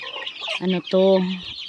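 Native and Red Island farm chickens cluck close by in a short run of harmonic, throaty calls, with a couple of stronger clucks near the end.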